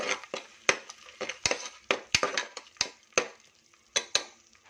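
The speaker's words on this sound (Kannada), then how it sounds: "ಇವಾಗ ಮಿಕ್ಸ್ ಮಾಡ್ಕೊಳ್ಳಿ" Spatula or spoon scraping and clanking in a pan while stirring a ground paste of ginger, garlic, spinach and mint, in sharp irregular metallic knocks close by, with no talk.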